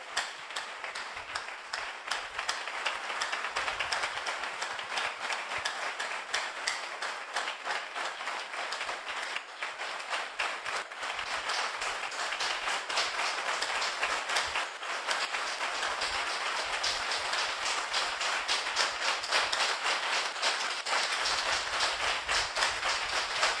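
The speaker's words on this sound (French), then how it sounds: "Est-ce qu'on peut encore applaudir le Seigneur Jésus?" A church congregation applauds, dense sustained clapping from many hands filling the room steadily for over twenty seconds.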